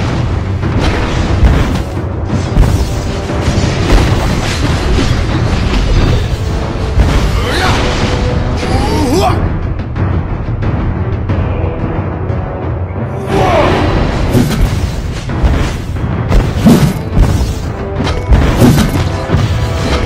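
Mobile Legends match as a team knocks down a turret: loud, dense booming crashes and smashes over busy battle sounds and music, with a dip in the middle before the clatter swells again.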